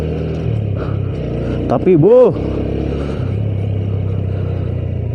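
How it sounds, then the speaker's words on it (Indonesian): A 110 cc automatic scooter engine hums steadily while riding, with a nearby voice talking over it and a brief louder rise in the middle. "Saking bandelnya mesin ini sebenarnya, walaupun cc-nya cuman 110 cc ya,"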